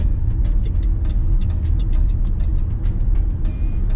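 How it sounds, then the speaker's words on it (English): Bugs smacking the windshield of a moving 2021 Ford Mustang Mach-E, heard as scattered sharp ticks over a loud, constant low road and wind rumble from inside the car. "the one thing you hear a lot of is the bugs smacking the windshield"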